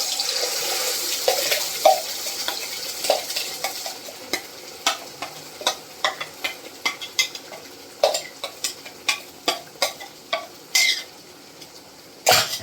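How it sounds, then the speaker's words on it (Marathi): Spice masala sautéing in hot oil, a steady sizzle with a rhythmic series of scraping stirs, close and moderately loud, without any speech. "याला आपल्याला छान परतून घ्यायचं."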